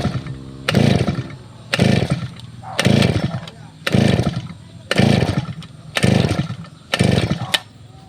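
Grass cutter engine that refuses to start, revved in seven loud, evenly spaced bursts about once a second, each rising and falling back to a low idle rumble, close up.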